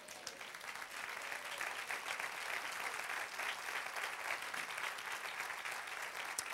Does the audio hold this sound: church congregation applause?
yes